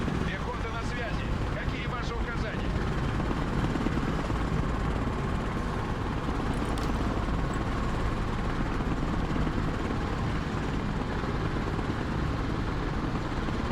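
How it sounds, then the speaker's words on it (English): Helicopters landing in the military strategy game Broken Arrow, a steady dense rotor and engine roar that holds loud and unbroken throughout. "Awesome choppers."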